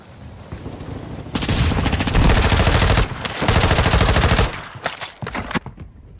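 Automatic gunfire in Warzone, a fast, loud, sustained burst of rapid shots that stops and restarts, ending in a few scattered closer shots.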